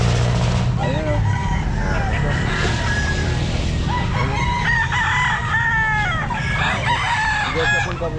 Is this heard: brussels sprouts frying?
no